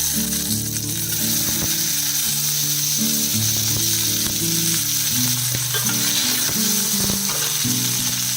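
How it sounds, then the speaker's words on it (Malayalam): Chopped ivy gourd pieces sizzle steadily in hot oil in a pan, a loud continuous frying hiss with occasional stirring clinks and scrapes throughout, no voices. "ഇതിൽ നമ്മൾ കട്ട് ചെയ്ത് വെച്ചിരിക്കുന്ന കോവയ്ക്ക ഉണ്ടല്ലോ, അതിട്ട് കൊടുക്കാം."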